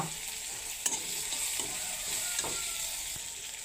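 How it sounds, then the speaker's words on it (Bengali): Onion, garlic and green chili fry in a pan with turmeric and salt, a steady sizzle broken by several light spatula scrapes and taps at irregular intervals, close and moderately loud. "মশলা এখানে ভাজা হইতে হইতে মানে পেঁয়াজ রসুন কাঁচামরিচ এখানে তো একটু ভাজা হন লাগবো"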